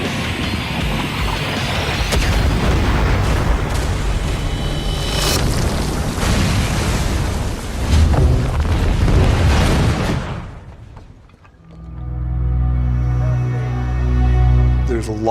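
A special-effects explosion on the set of the 2016 film Suicide Squad rolls out as a long, loud, rumbling boom with crackling debris. It lasts about ten seconds, then drops away into a quieter, tonal passage.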